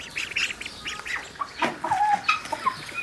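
Young ducks on a small farm give a run of quick squawks and peeps, some overlapping, close by and moderately loud, with no talking.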